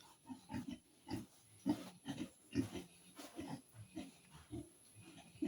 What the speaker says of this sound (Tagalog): Guys, mga gutom na yung mga baboy na alaga.